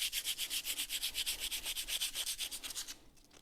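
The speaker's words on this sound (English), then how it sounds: "You got a machine sander?" A mechanical sander works on a surface in a garage, giving a close, rapid rhythmic rasping scrub for about three seconds before it stops abruptly.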